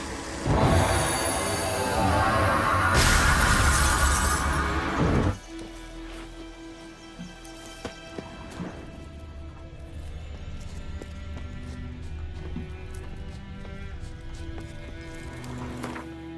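A horse in Witcher 3 trots with rhythmic hoof clops under loud game ambience and music, with no clear whinny standing out.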